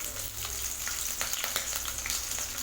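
Dried red chili and green chilies with chana dal sizzle steadily in hot oil, a continuous crackling fry with occasional stirring scrapes, close and moderately loud with no talking.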